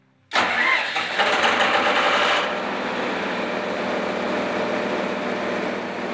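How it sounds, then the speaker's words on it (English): A generator engine cranks and catches abruptly, roaring loudly for a couple of seconds before settling into a steady, slightly quieter running drone close by, with no talking. "You go and you fire up the generator"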